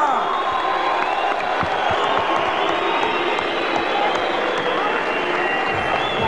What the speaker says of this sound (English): let's give him a big round of applause from the land of warriors